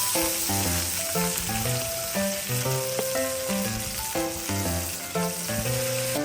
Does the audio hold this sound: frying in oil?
yes